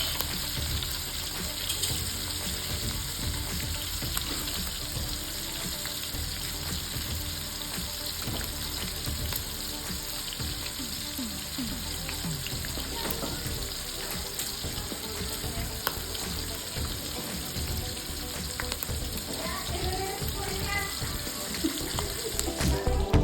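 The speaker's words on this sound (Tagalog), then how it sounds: "Nilagay na po ang sibuyas at bawang at hinahalo-halo na po." Onion and garlic sautéing in a pan for pancit bihon, a continuous close frying hiss with frequent scraping and stirring knocks of a utensil throughout.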